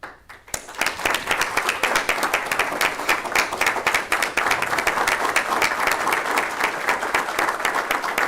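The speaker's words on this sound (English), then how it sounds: "a tremendous amount of applause and accolades for these young men and women" Audience applause at a county legislature meeting, a dense, continuous wash of many hands clapping that starts suddenly after a brief quiet moment and holds steady and loud throughout.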